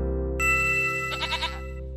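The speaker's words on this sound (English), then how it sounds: "This is a goat" A cartoon goat in a preschool animal show gives a single short, tonal bleat with a wavering trill, clean and close against a soft sustained music bed.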